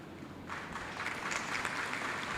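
Students at Sri Sri University in Cuttack break into applause that swells after a moment into steady, sustained clapping from a sizable crowd, moderately loud, with no talking over it.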